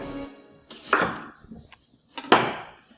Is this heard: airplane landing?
no